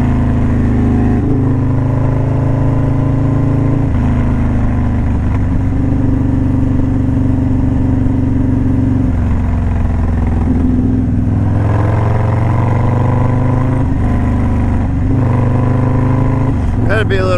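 A Yamaha Tenere 1200 motorcycle engine revs and pulls through gears on a morning street ride in Daytona, a loud continuous engine drone with rising and falling pitch sweeps, close to the microphone.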